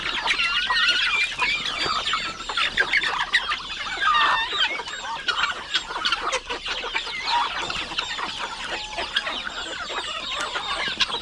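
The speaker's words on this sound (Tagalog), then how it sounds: "Tandang." Poultry on a Filipino backyard farm, with roosters among chickens and turkeys, keep up a continuous busy chorus of clucking and crowing-type calls, close and dense, with no talk.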